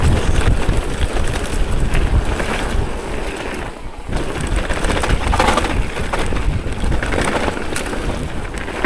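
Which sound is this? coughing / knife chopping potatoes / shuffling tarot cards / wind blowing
wind blowing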